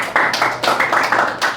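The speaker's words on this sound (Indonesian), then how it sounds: "Tepuk tangan dulu untuk jawaban dari teman kalian." Classroom applause from students rewarding a classmate's answer, brief bursts of claps in a few uneven waves, fairly close and loud, with no talking over it.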